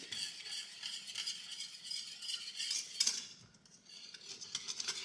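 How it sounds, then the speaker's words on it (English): A whisk scrapes and clinks steadily against a skillet while stirring lumpy flour and oil gravy, a close metallic stirring rhythm with faint sizzle beneath and a short pause near the end. "Just continue to mix or stir like I'm doing with a whisk or a fork"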